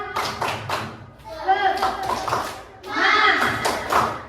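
Schoolchildren in a classroom perform a rhythmic spirit clap, three quick bursts of patterned claps and hand taps separated by short pauses, with young voices chanting along between and over the beats.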